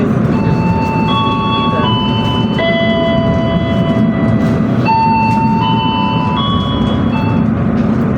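Steady loud rumble of a moving Indonesian passenger train on the Yogyakarta–Surabaya route, with sustained high tonal squeals, like wheels grinding on rails, continuous throughout.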